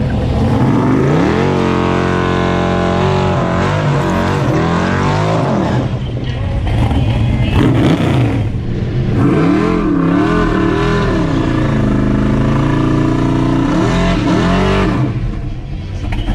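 A loud, deep 521 cubic inch V8 Mustang engine with open exhaust roars close by at a dragstrip, revving up and down repeatedly in a harsh, rumbling growl.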